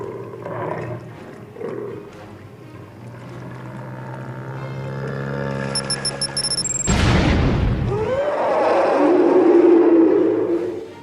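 A sudden, powerful blast erupts partway through, a loud booming burst that rolls into a deep rumbling roar, preceded by a steady low droning hum and followed by a long swelling resonant tail.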